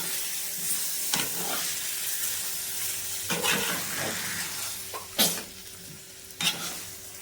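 Masala is stirred into chops frying in a pan: a soft background sizzle punctuated by a few sharp spoon scrapes and knocks, fairly quiet, no voices.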